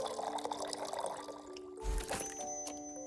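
Alcohol poured into a drink in the tavern video game Tavern Talk, a short liquid pouring and trickling sound over soft game music, with a faint low thump midway.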